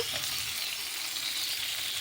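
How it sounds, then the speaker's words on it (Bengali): Spice paste sizzles steadily in a hot pan with oil, a dense even crackle with faint stirring and no voices. "এগুলো একসঙ্গে আমি আবারও একটু ভাজা ভাজা করে নেব মশলাটা লাল লাল করে ভাজা হয়ে গেলে"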